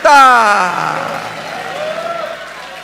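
A church congregation applauds at a worship service in Brazil, a steady wash of clapping from many hands under a loud, trailing voice that fades out early, leaving the crowd's clapping to continue evenly.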